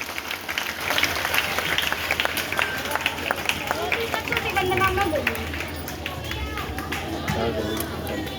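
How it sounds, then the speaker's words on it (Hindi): School audience at an Independence Day cultural program clapping to welcome guests before the lamp lighting, a dense spatter of applause with crowd chatter and voices mixed in. "तो आइए जोरदार तालियों के साथ हमारे अतिथिगण का स्वागत करते हैं"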